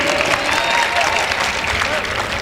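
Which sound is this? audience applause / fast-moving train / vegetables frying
audience applause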